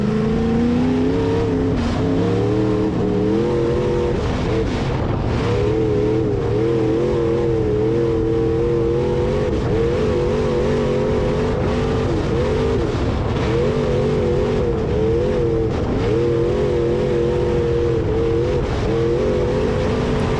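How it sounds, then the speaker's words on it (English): A B-mod modified race car, owned since 1998, laps a heavy, wet dirt track at Springfield Raceway, its engine droning loud and steady throughout with rising and falling revs and no talk over it. "First laps in a modified that I've owned since 1998."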